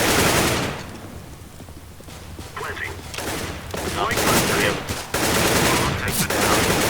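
Automatic rifle fire rattles through a professional Counter-Strike match between NaVi and C9. Dense, loud bursts of gunshots come in waves, with the commentator's voice running underneath.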